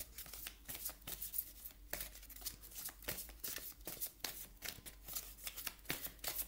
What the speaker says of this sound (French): On va aller chercher une carte des ailes de la sagesse.